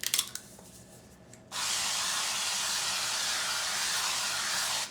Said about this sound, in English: So I'm gonna start with the avocado spray.